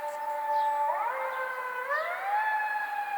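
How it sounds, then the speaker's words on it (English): Distant sirens wailing at night, rising and falling tones that glide upward and hold, steady and moderately faint with no talk. "Sirens."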